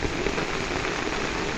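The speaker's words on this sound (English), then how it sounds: "This incredibly heavy rain." Heavy rain pours steadily in a late-summer rainstorm over a garden by a pond. It is a dense, even hiss with no pauses, close and fairly loud, and no voices are heard.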